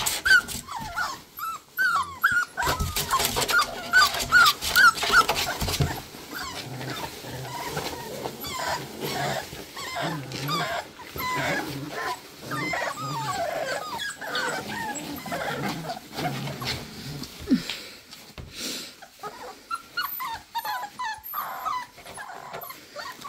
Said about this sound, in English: Good looking little batch of puppies.